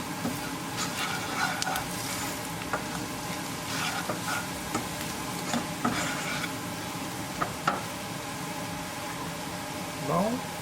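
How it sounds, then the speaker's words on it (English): Onion and spices frying in a tadka for a matar paneer bhurji, a steady broad sizzle with occasional scrapes and clicks of stirring, close by and fairly constant throughout. "we're going to cook our spices along with our tadka for half a minute"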